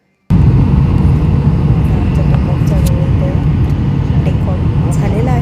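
A passenger airplane taking off, heard from inside the cabin as a loud, steady engine roar that starts abruptly and holds constant, with faint clicks and rattles on top.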